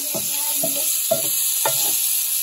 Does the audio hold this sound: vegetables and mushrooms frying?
yes